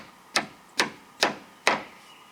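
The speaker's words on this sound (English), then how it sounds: "we are going to be swinging a hammer" A hammer strikes a tool used to remove the door hinge bushings on a 2007-2018 Jeep JK. There are four evenly spaced, sharp metallic blows, close and clear with nothing else over them.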